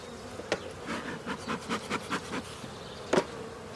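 Honey bees humming around an opened hive during a July inspection of a split, a steady low drone with a few louder buzzes as insects fly close past, and occasional faint knocks of wooden hive parts.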